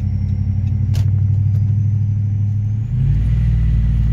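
A Ram pickup truck with a TorqStorm supercharger rumbles loudly and close while driving, then downshifts with a brief dip and a jump in engine pitch, the supercharger whine rising above the deep engine drone.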